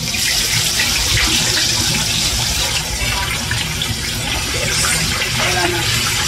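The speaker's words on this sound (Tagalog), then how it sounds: "deep fry na natin siya guys. Mainit na yung ating mantika." A whole chicken deep-fries in hot oil over medium heat, giving a loud, continuous hiss and crackle of bubbling oil, with a voice faintly present underneath.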